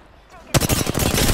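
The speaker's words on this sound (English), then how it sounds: "Push. Getting shot at." Sudden burst of rapid automatic gunfire in Apex Legends strikes the player, loud and dense from about halfway in, following a quieter stretch with faint game ambience and a brief murmur.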